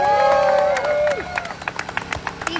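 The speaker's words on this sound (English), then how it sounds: "Let's give her a round of applause." A crowd at a workers' rally applauds and cheers for a speaker who lost her job, loud at first with tonal whoops, then thinning into scattered claps and voices.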